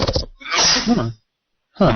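A single sharp sneeze from a player at a Deadlands tabletop role-playing session, close and loud, between bits of conversation.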